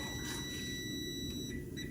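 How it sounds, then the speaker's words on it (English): A kitchen timer sounds with a steady, high electronic tone that holds through the whole stretch over a low room rumble, and no one speaks. "Stupid timer."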